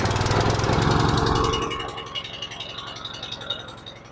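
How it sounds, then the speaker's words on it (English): A brand-new portable generator engine fires up with the choke on, a loud, close mechanical roar that eases after a second or so into a steady, lower-pitched running idle. "This has never been run before, so it might just need a couple of pulls just to get the fuel into the carburetor properly"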